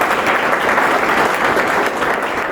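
Sustained audience applause fills a felicitation ceremony hall, steady and dense clapping from a large crowd throughout, close and loud with no talking over it.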